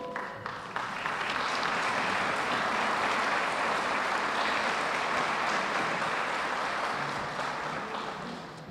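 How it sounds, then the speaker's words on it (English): Sustained applause from an audience at a police department annual awards banquet, honoring the department's clergy; dense, steady clapping swells within the first second and holds for about eight seconds before tapering slightly. "If you would please rise so we can applaud you."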